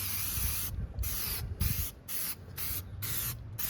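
Aerosol spray on a car headlight during a polish-kit restoration, six short bright hissing bursts in an uneven rhythm, each about half a second long, close up over a low background rumble.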